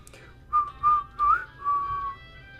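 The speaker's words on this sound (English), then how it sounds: "That's the one that was in all the trailers, like the whistling." A whistled tune from the Bendy and the Ink Machine video game plays as four clear, melodic notes in slow succession, gentle and fairly close, with no talking over it.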